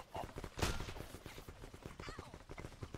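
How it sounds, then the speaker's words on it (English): Rapid gunfire crackles in the blocky first-person shooter Block N Load, a fast dense stream of shots rattling on at a moderate level with a sharp louder burst early on. "Who's shooting me?"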